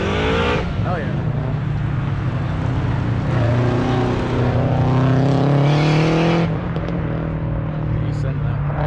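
A race car engine at a race day gives a loud, throaty rumble that holds steady and rises in pitch as it accelerates. It cuts off abruptly near the end, over outdoor background noise.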